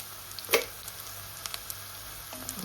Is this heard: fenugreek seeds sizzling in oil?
yes